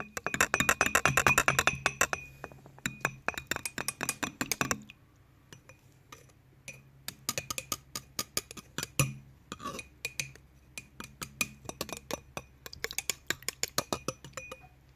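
Kiwi seeds being stirred in water in a glass give off quick, bright clinks in dense bursts, then a brief pause, then sparser, irregular taps against the glass, close and fairly quiet.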